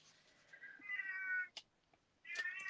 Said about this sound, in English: I don't know what it is with the cats. They have to be with me all the time.